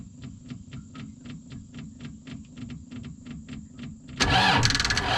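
A Massey tractor engine being started: the starter cranks with rapid, regular clicking and whirring for about four seconds, then the engine catches and roars loudly to life, heard close without talk.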